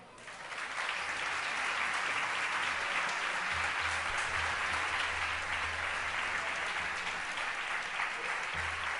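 Sustained audience applause at a falla presentation ceremony in Valencia, with steady clapping from a large crowd that swells in within the first second and carries on evenly to the end.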